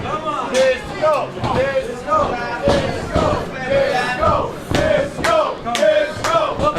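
At a live pro wrestling show, the crowd cheers and yells in rough bursts, with loud shouts rising and falling over a constant roar of many voices.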